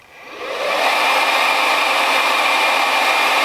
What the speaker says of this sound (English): I'm just going to start off using just the fan on the hair dryer